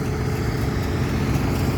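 A tractor idles nearby with a steady low diesel rumble, continuous and even, with no voices.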